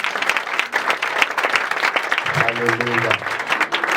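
A church congregation claps steadily in acclaim of Jesus, a full, continuous burst of applause with voices calling out over it.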